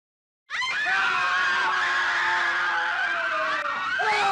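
Loud, continuous screaming in a psychiatric hospital from a horror story, a sustained wailing shriek that starts abruptly after a brief silence and holds for about four seconds, with no talking.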